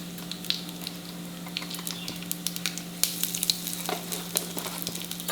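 Curry leaves, two red chilies and asafoetida crackle and sizzle in hot oil for a green mango chutney tempering, a close, lively spatter of irregular pops over a low steady hum, with no one talking.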